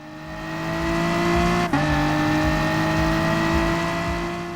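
Race cars on track in Gran Turismo Sport, including an Audi TT Cup car and a BMW M4, give a loud, continuous engine drone with a steady pitch and a brief gear-shift dip partway through.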